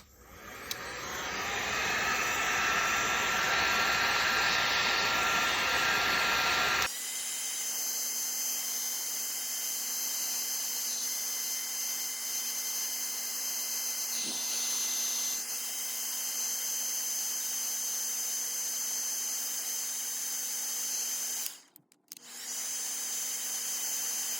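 A loud whirring crafting heat tool blower roars for several seconds, then drops to a much quieter steady hum with a faint tone, briefly cutting out near the end.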